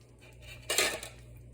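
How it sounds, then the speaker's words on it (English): A spoon scrapes and clinks once against a pot of simple pasta sauce with fresh basil, a short clattering stir over a quiet steady hum. "Let me give it a stir."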